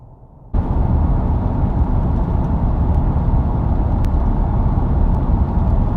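Constant broadband rumble of road and tire noise inside a car moving at 60 mph, starting abruptly after a brief quieter moment and staying steady.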